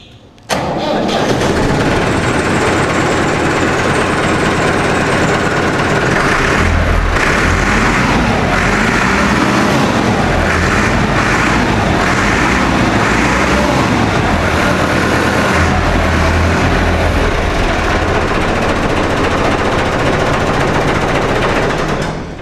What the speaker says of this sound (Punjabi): ਇਹਦਾ ਸਾਊਂਡ ਚੈੱਕ ਕਰਵਾਉਂਦੇ ਆ ਤੇ ਮਾਸ਼ਾਅੱਲਾ ਕਿਆ ਕਮਾਲ ਦੀ ਆਵਾਜ਼ ਆ ਟਰੈਕਟਰ ਦੀ